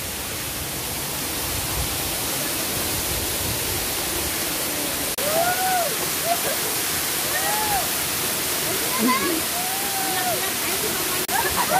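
Waterfall at a river falls spot, steady broadband rush of flowing water throughout, with voices and brief chatter rising over it.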